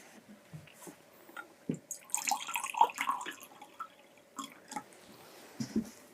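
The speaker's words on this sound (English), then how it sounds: "So we're going to measure maybe 100 mils into this beaker." Water poured into a laboratory beaker during a school science test for starch in saliva, heard as faint intermittent splashes and drips in a quiet room, without talking.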